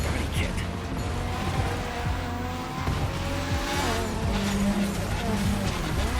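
A Nissan GTR race car with a heavy body kit drives hard in The Crew Motorfest, engine revving through shifting pitches with tire squeal, while someone talks over it.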